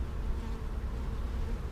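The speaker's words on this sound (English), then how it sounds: "Noah was getting a bee off my foot because I wore chacos" Bees buzz in a dense, steady drone during a beehive inspection, a loud close swarm hum with no pauses and no voices.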